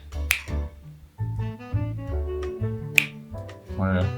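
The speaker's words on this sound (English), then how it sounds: "Sometimes the snaps are not good enough." A couple of sharp finger snaps ring out in a home kitchen during cookie baking, brief isolated clicks between stretches of close talking.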